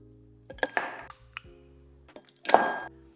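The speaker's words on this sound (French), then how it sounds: "munissez-vous d'un verre allongé de type highball et versez-y quelques glaçons" Ice cubes dropped into a tall highball glass, a few separate clinks and pings then a louder clattering drop, close and quiet.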